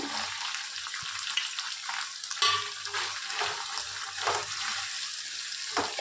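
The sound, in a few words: stirring vegetables frying in pan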